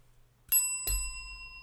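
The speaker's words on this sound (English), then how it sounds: "I hope that bell sound effect is out of copyright" Original bell recording used as a sound effect: two quick, bright rings of a bicycle-style bell, the second ring left to fade with a long metallic decay, alone against near silence.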